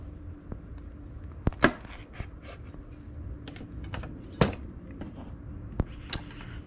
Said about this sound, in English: You cut the peppers into strips and you stuff it in there.